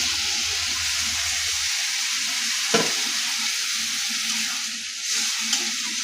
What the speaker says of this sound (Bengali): এই মশলাটাকে খুব ভালো করে কষাবো